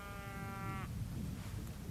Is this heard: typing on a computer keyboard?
no